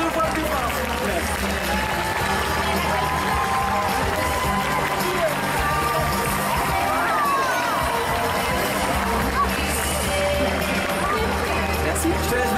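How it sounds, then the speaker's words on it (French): An indoor audience at a 2023 contest results ceremony applauds a prize winner with sustained clapping and scattered cheers, under a murmur of crowd chatter for several seconds. "On peut l'applaudir 2 fois plus fort"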